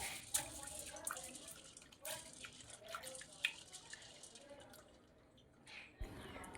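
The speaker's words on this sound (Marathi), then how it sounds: "सर्वात आधी इथे मी चणा डाळ स्वच्छ धुवून घेणार आहे" Chana dal being rinsed in water in a home kitchen, with soft splashes and drips of water and small clinks of the grains, fairly faint and close.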